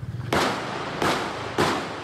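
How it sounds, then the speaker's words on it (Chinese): Three sharp gunshots ring out in a parking lot, picked up at a distance by a surveillance camera, each loud crack followed by a short echoing decay. "枪声大作，吓坏民众。"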